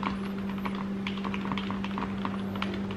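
An A4TECH FK11 compact keyboard is typed on in quick, irregular clicks, close and fairly quiet, over a steady electrical hum.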